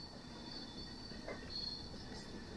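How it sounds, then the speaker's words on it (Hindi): Raptisagar Express passenger train rounding a curve, heard from inside a first AC coach: a continuous rumbling roll with a sustained high wheel squeal along the bend, steady and fairly close, with no talking. "जैसे ही ट्रेन की कर्विंग पूरी होगी, मेन लाइन पे आते ही ट्रेन अपनी फुल स्पीड पकड़ लेगी"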